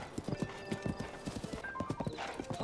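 Horse in Zelda: Tears of the Kingdom galloping with rapid rhythmic hoofbeats, then giving a neigh, fairly quiet with game music and sound effects around it.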